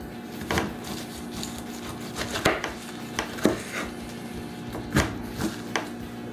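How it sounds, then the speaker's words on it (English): Knife chopping through a pineapple on a kitchen counter, with irregular thuds and crunchy cuts against the board, close and moderately loud over a faint steady hum. "we're gonna try and cut through a pineapple, and it's cutting through like butter"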